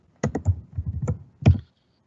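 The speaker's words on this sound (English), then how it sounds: "The syntax that Sanjeev is typing here" Someone types on a computer keyboard while writing Terraform code, a short close burst of crisp clicking keystrokes in two quick clusters, with no talk.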